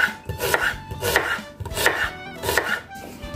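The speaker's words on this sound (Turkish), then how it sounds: "işte soğanlarını ince ince doğrayarak başlıyorum" Knife finely chopping onions on a board for a Turkish sour beet meze, a steady run of crisp close taps in uneven bursts, with no talk.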